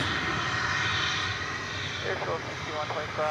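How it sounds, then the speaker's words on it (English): An American Airlines Airbus A321 arriving at Dallas Fort Worth Airport from Cancun, its steady engine roar holding at moderate level, with people talking faintly over it toward the end. "American Flight 1750 from Cancun, an Airbus A321."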